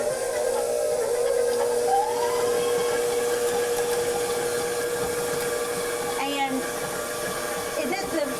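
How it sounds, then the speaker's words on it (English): A stand mixer with a dough hook works sausage and cream cheese, giving a steady, loud motor whir with a constant drone that runs unbroken throughout, close by. "I'm gonna do my 8 ounces of cream cheese, and I'm gonna go ahead and mix that."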